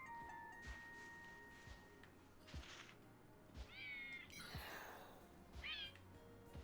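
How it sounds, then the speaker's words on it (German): A Pokémon in the video game New Pokémon Snap gives several cat-like meows, rising and falling cries over soft game music and a steady ambient hum, moderately close. "Der miaut da."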